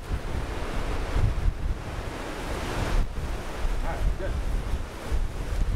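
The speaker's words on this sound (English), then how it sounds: "this wind is picking up" Strong, steady wind roars across an open golf course and buffets the microphone, making a loud, continuous rumbling gust noise with no clear talk.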